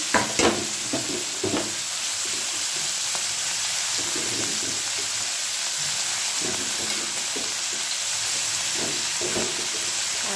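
Sliced onion frying in oil for a small-fish chachchori, an even crackling sizzle punctuated by several spoon scrapes and stirring knocks, with no voice.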